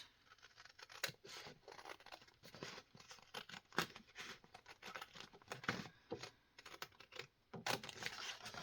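Scissors cut out a small paper craft piece in a string of quiet, uneven snips and scratchy paper rustles, close by with no talking.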